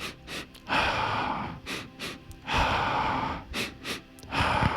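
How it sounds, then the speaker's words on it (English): A fast breathing exercise of two sharp inhales followed by one exhale, close and loud, repeating in quick bursts of air through the nose and mouth with brief pauses between cycles. "So this is a faster breathing."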